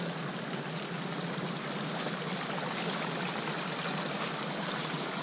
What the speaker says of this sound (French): on va traverser une petite rivière magnifique